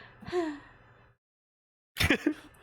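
A voice imitates a high-pitched, whimpery snore: a breathy, wavering inhale, a pause of silence, then a second short nasal whine, close and alone.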